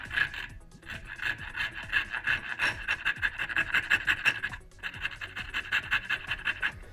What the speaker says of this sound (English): you're going to want to go ahead and stop and go to a more gentle file or rasp